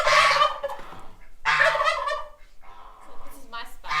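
Farm turkeys gobble in two loud bursts of rapid warbling, followed by quieter scattered calls close by.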